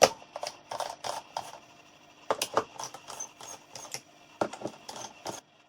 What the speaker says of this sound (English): on my laptop we will unscrew all the screws on the bottom and open the bottom cover